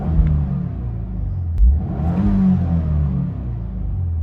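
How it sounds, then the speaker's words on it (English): A 2022 Subaru WRX Premium's turbocharged engine revs up from idle in a brief rising surge, then holds a deep, loud rumble heard close from inside the car, with no one talking. "I'll rev it up for you now so you can see how that looks."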